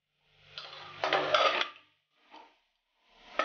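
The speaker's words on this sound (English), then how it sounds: "I'll stir all the vegetables with the spices" A spoon scrapes and clanks in a pot while stirring vegetables with cumin and other spice powders for a spinach, dill and fenugreek curry, in three close, separate stirring strokes with quiet pauses between them.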